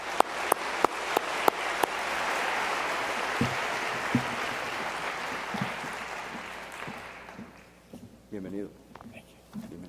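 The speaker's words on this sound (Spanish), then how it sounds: "Demos por favor un fuerte aplauso a Wes Manfredi." A few sharp claps lead into a swelling round of applause from a design-event audience welcoming architect Wes Manfredi, fading over several seconds before a voice speaks.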